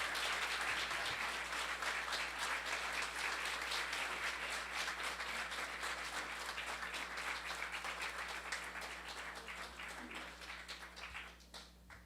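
Sustained audience applause at an evening tribute event, dense steady clapping from a large crowd that holds strong throughout and tapers only slightly toward the end.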